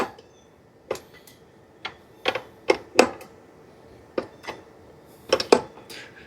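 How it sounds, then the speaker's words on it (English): An 18mm wrench works the rear axle nut on a RadRunner eBike, producing sparse, sharp metallic clicks and taps at irregular intervals, close and fairly crisp against a quiet background. "we're going to use this 18mm wrench and torque this off"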